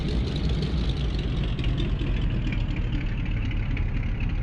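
Simulated single-prop de Havilland Beaver aircraft engine idling in X-Plane 11, a steady, loud, continuous low rumble with a broad droning hiss, unbroken and alone without talk.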